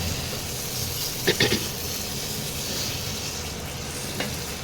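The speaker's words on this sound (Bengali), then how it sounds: "মশলা দিয়ে এবার তেল ছাড়তে আরম্ভ করে দিয়েছে, টমেটোগুলো সব গলে গেছে" Spice paste with melted tomatoes frying in oil for a jackfruit and prawn dish, a soft continuous sizzle with a few brief clinks of a spoon against the pan.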